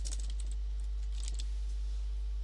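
Fingers type on a computer keyboard in quick clustered bursts of crisp key clicks, close and clear, entering a search into a Pokémon browser game over a steady low electrical hum.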